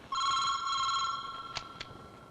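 A telephone in a Bollywood action film rings with a bright, trilling electronic tone for about a second and a half, then two sharp clicks follow, like the handset being picked up, in a quiet room.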